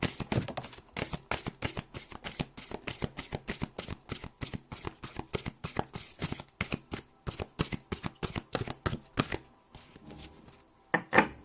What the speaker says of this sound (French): Donc je mélange toujours en face à moi